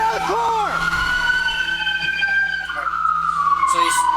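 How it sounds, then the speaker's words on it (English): A loud police car siren wails and sweeps in pitch, close by, with a vehicle engine and shouting voices around it. "Turn off your sirens."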